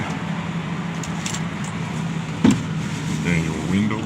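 A Ford truck with a Triton V8 idles smoothly with a low, steady hum and a brief thump partway through, while someone talks over it nearby.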